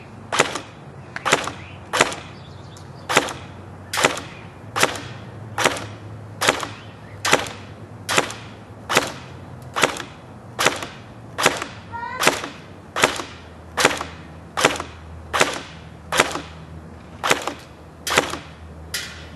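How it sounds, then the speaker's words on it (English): A JG Sig552 airsoft rifle fires single shots at a target 100 feet away, around twenty sharp cracks each followed by a brief snap, spaced evenly about a second apart, close and loud. "first couple shots are going to be sight-ins"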